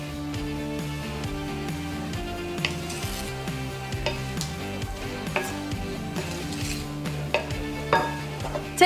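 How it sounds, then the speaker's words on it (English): Peaches and caster sugar get stirred together in a glass bowl, a steady run of soft scraping and light clinks of a utensil against glass with no voices. "I'm going to mix it around with some caster sugar to give it a bit of sweetness and some corn flour"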